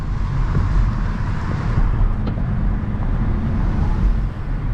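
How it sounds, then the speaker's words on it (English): Cars idle and creep in a traffic jam on a US road, a low, steady rumble of engines and road noise heard from inside a vehicle, with no talking. "This is a typical traffic jam here in the United States."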